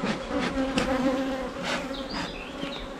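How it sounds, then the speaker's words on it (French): Honeybee foragers return to a hive, their buzzing a dense, continuous drone with individual bees passing close by in short rising and falling whines. "C'est les butineuses qui reviennent"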